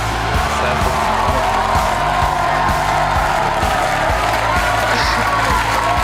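A studio crowd at a League of Legends match in Los Angeles cheers and shouts loudly and continuously, a dense roar of voices with rhythmic thumping underneath throughout.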